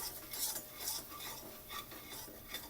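Coriander leaf and sesame mixture for kothimbir vadi sautéed in a pan, heard as quiet, repeated scraping and stirring strokes with light clinks of utensil against metal.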